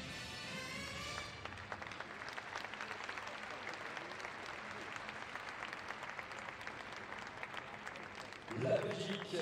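Sustained audience applause fills a dressage arena after a Grand Prix test at an FEI Dressage World Cup event, steady and dense throughout, with a commentator's voice over the start and a louder burst near the end.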